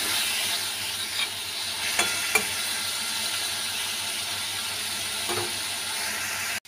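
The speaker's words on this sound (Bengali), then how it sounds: "মাছটা দেখো ভাজা ভাজা হয়ে গেছে, এবার তুলে নেব।" A fish rubbed with a little turmeric and salt fries in oil in a pan, giving a constant close sizzle broken by a few faint scrapes and taps of stirring, with no one speaking.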